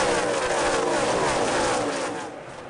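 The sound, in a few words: stock cars racing at Pocono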